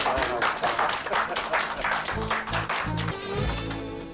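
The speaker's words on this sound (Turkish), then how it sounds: "Mutluyuz alkışlayın." A group of people clap together in a dense, continuous patter at close range, with voices talking and calling out through the clapping.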